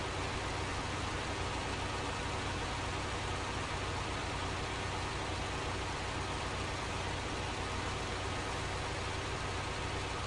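A truck engine runs steadily in the Snowrunner video game, a constant low mechanical drone with no talk, holding an even level throughout the whole stretch.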